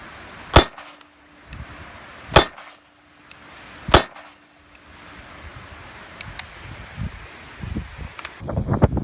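Three sharp, loud gunshots from a handgun fired with slow, deliberate trigger presses, evenly spaced about one and a half seconds apart, each followed by a brief ringing tail, with faint rustling and handling noise afterward.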